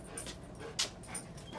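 A dog whimpers softly and pants in short breathy bursts near a crate, faint and close, with one brief sharper yip-like sound midway.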